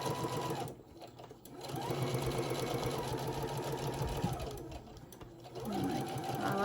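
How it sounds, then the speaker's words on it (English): A sewing machine runs a seam around cut pieces of a handmade stuffed bear, stitching in a steady rapid rattle with brief pauses and restarts, close and fairly quiet with no talk. "I'm just going to sew about a 1/4 inch seam allowance. And sew all the way around."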